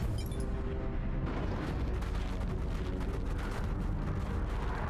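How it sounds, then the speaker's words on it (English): Artillery barrage in the video game Dawn of War 2, a dense, continuous rumble of heavy blasts and booms rolling one over another at close range, loud throughout with no voices. "Launch barrage! Artillery, clear the area."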